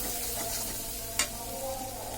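Masala frying in oil for macaroni is stirred in a pan, giving a steady close sizzle with soft scraping strokes and one brief sharp clink, no talking.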